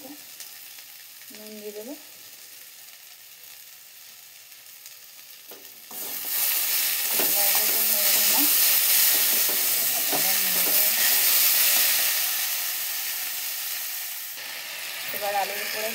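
Potatoes with turmeric fry in a pan while being stirred. The loud, steady sizzle starts partway through and continues to the end, with a person speaking briefly over the cooking.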